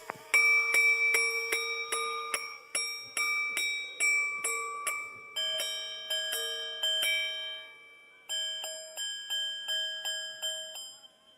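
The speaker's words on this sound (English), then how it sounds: "we can actually listen to the chime" A chiming watch offered at a Christie's Hong Kong auction rings a long series of bright, clear tones in quick groups, each note ringing and decaying, close and alone with no talk.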